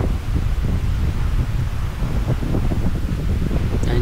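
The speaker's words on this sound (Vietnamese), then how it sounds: "Hôm nay thì gió cũng hơi nhiều," Strong gusty wind roars steadily across the microphone high on Hai Van Pass, a continuous loud buffeting rumble with no speech.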